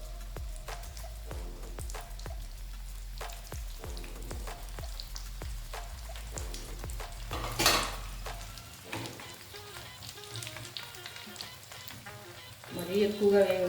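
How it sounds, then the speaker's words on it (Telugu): Bread pieces deep fry in hot oil for a bread sweet, producing a continuous crackling sizzle with dense popping bubbles, a low hum fading partway and a brief louder stir near the end. "ఇట్లా అన్నీ మనకి ఎన్ని పడితే ఇందులో అన్నీ వేసుకుని వేయించేసుకోవాలి."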